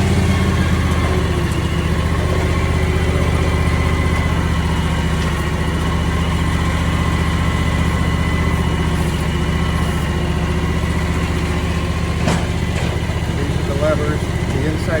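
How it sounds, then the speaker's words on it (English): A John Deere X738 lawn tractor engine idles steadily and close throughout, a constant low mechanical drone with a faint sharp click near the end. "Start the tractor"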